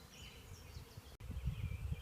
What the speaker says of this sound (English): The bees are continuing to land, and they're still kind of scattered on that branch.